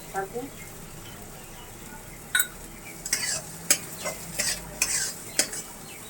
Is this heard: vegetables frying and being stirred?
yes